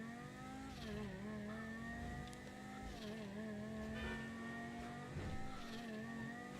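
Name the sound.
fastest car driving in a video game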